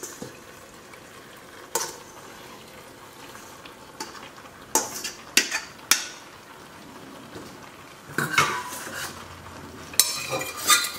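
Drained pasta gets stirred into Goan pork gravy in a pan, a low simmering hiss under irregular metallic scrapes and clinks of a spoon against the pan, some louder and clustered, others sparse.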